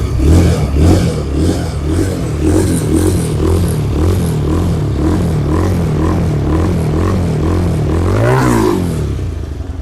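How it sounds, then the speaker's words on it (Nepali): A motorcycle engine idles with a loud, close, steady pulsing throb that rises into a brief rev near the end, with no talk. "यो बाइक। अब म तपाईँलाई यसको एकचोटि साउन्ड पनि सुनाइन्छु।"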